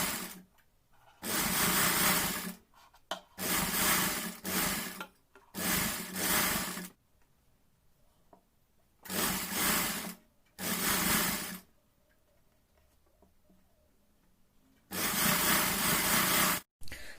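A sewing machine stitches bra fabric in several steady whirring runs of one to two seconds each, separated by quiet pauses, close and moderately loud with no talking.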